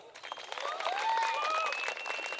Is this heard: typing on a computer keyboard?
no